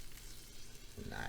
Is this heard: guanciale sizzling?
yes